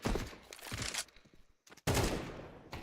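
AK rifle fire in a Counter-Strike pro match comes in loud rapid bursts, a burst, a short lull with scattered shots, then another heavy volley.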